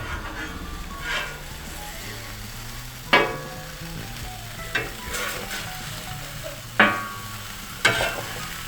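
Smash burger patties sizzle loudly on a hot griddle after being flipped, a steady frying hiss broken by several sharp scraping clanks of a spatula, with no one speaking.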